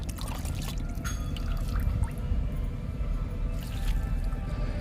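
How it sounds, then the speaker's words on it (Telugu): Liquid kitchen-waste fertilizer pours steadily into a container with a continuous splashing trickle, close and moderately loud, with no talk. "డబ్బాలో పోస్తున్నా."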